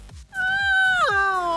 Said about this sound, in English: Oh, there's a crying cat mommy.